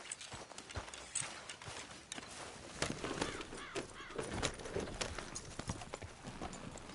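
Horse hooves clip-clop unevenly at a walking pace in the video game Red Dead Redemption 2, with a few crow caws mixed in, fairly close and moderately loud.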